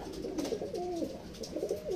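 Racing pigeons in a loft coo softly in repeated throaty, rolling calls that overlap close by, with faint background rustle and no talk.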